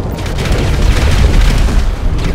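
Bomb explosion in GTA Online, a loud close booming blast that rumbles heavily for a couple of seconds.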